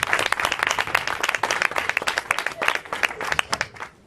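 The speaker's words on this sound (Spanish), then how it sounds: "Un aplauso para ella." Audience applause at a conference, dense overlapping clapping from a crowd that holds steady for about four seconds before tapering off at the end.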